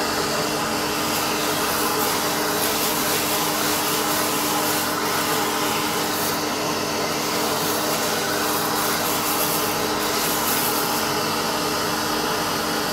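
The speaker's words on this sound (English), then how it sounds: "So this just sucks the air down through the whole beans and lets them cool off fairly quickly." A vacuum hose pulls air down through a kilo of freshly roasted whole coffee beans to cool them, a steady, loud broadband whoosh with a whistling hiss that holds unchanged throughout, with no talking.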